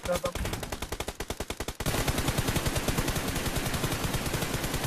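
Rapid automatic gunfire in the mobile shooter PUBG Mobile, loud and close, starting as distinct evenly spaced shots and then merging into a dense sustained burst.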